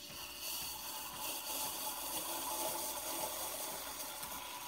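A steady, loud, airy hiss of a Breville Barista Express espresso machine's steam wand runs unbroken throughout, with faint watery gurgling beneath.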